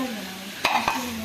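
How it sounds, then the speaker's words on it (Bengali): Shrimp fry in a pan with a continuous soft sizzle, broken by two sharp clicks of a utensil against the pan. "এই দেখো চিংড়ি মাছ ভাজা"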